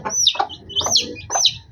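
A caged chicken clucking close by, three short rising calls in quick succession, loud and clear with no talking.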